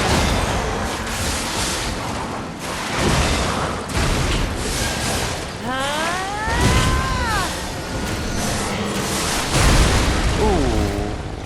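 Several heavy booming explosions go off in the Lies of P video game during an Overture DLC fight, loud broadband blasts recurring every few seconds amid rumbling battle effects and swooping tonal sounds.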